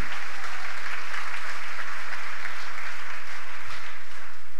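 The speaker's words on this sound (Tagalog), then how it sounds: "Bigyan natin siya ng palakpak." A church congregation applauds during a sermon, with sustained, loud clapping from many people filling the room throughout.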